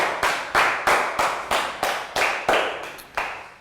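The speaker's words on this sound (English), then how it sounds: "Big round of applause for Pak Bung." A class of schoolchildren claps for a student in a Year 3 math lesson: about ten distinct, fairly loud claps in a loose rhythm, close by, with no talking.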